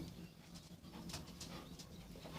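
Homing pigeons in a loft cooing softly, several low throaty coos with a few faint rustles, quiet and somewhat distant.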